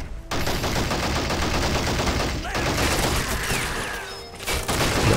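Sustained MG42 machine gun fire and scattered gunshots from a Men of War: Assault Squad 2 battle, a dense loud rattle of bursts running nearly nonstop, with brief pauses and distant booms.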